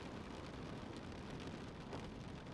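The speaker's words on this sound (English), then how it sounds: "It's raining outside." Steady rain falls outside in the video game Stanley Parable: Ultra Deluxe, a soft, dense, continuous hiss with no breaks, quiet and even throughout.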